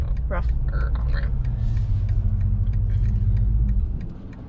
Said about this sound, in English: The engine shuts off.